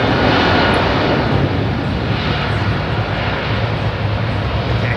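Boeing 777 jet airliner at London Heathrow Airport on a busy evening, its engines producing a loud, steady broadband roar that holds throughout without a break.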